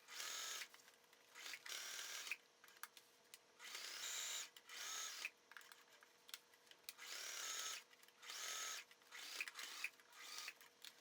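A sewing machine stitches along the edge of a fabric dog carrier bag in a steady, quiet whir, running in repeated bursts of a second or two separated by short pauses, with no voices.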